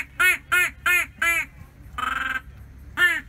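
A duck call imitates a duck: four loud, evenly spaced quacks, then a longer buzzing quack and one more short quack, close and clear with no voices.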